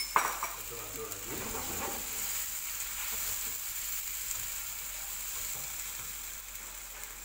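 Tomato ketchup and sauce sizzle in a hot pan for barbecue grilled chicken, a steady frying hiss running throughout while a utensil clinks and scrapes against the pan in the first seconds.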